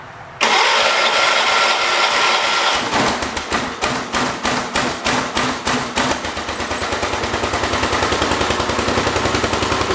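A cold 1978 John Deere 316 lawn tractor engine cranks for a few seconds, then catches and settles into a loud, close, steadily thumping idle.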